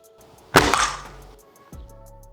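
A sharp single crack of a Magtech N2 Extreme spring-piston air rifle shot, then a brief ringing decay and a softer thump moments later.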